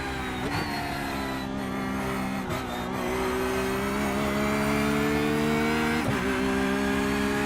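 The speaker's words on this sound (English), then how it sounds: "I'm definitely causing the wheels to lock at the moment" A Porsche 911 GT3 R in the iRacing simulator brakes hard and locks its wheels, with loud, continuous engine drone and squealing tyres that carry on without talk.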